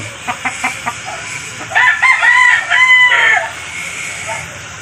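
Kelso Gray gamecock crowing loudly nearby, a long drawn-out crow that follows a few short clucks.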